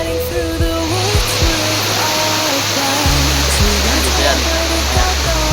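A waterfall roars as a loud, steady rush of falling water, with people talking over it throughout.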